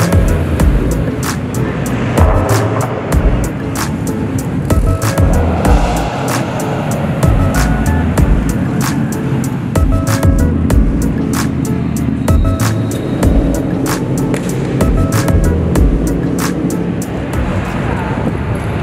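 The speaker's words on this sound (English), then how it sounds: "I love seeing all the cars get out of here and hearing all the exhaust and stuff." Tuner car exhausts rumble steadily as cars roll out of a car show, a loud continuous drone of engines and exhaust close by with sharp intermittent crackles over it.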